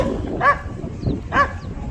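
Dogs bark in two short bursts spaced about a second apart, moderately close, over a steady low background rumble, with no talking.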